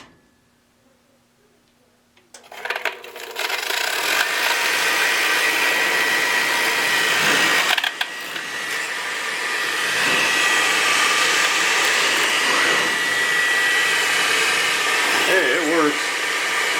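An old furnace draft inducer fan motor, repaired and used as a spare, kicks on after near silence and spins up to a loud, steady whooshing roar, slightly rough at first, then running evenly and close.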